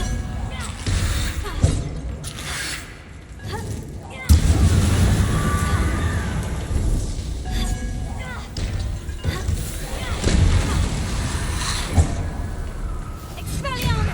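Blasting spell explosions from the Hogwarts Legacy video game burst out one after another, loud bangs and crashes over a dense background of game music and effects, with a voice speaking throughout.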